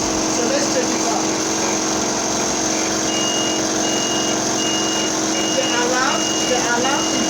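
An automatic changeover system for three power sources sounds its alarm as the grid line is connected: a steady electronic beeping tone that persists under a constant dense background hum.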